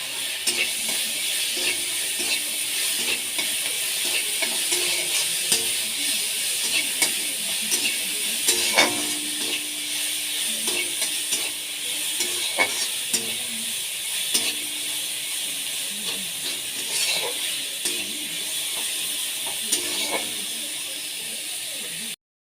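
Prawn heads sizzling in a hot pan with salt, a steady dense frying hiss running continuously with occasional scrapes and stirring clicks, close and unbroken, no talk.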